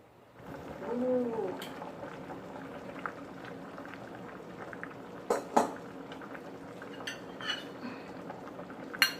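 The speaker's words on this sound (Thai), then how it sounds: "จะเคี่ยวเนื้อกับหน่อไม้" Deer meat with bamboo shoots simmering in a pot, a steady low bubbling and boiling murmur throughout with a few sharp clinks of utensils against the pot.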